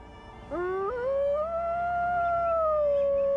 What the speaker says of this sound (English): the howl of the Arctic wolf can be heard from a distance of up to 16 kilometers